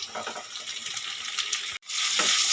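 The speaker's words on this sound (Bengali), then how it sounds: "টমেটো কুচি দিয়ে একটু নেড়ে ছেড়ে নেব" Chopped tomato hits onions already browned in oil in a pan, giving a close, hissing fry with light stirring, briefly cut off and then resuming louder.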